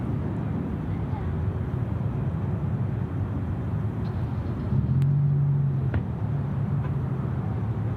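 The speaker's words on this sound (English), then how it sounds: "Now back to the Atlas Air 747 for a short while before it goes behind the trees" An Atlas Air Boeing 747 takes off with a broad, steady jet roar heard from a distance at an airport. A low engine tone rises briefly, and a voice talks over the noise.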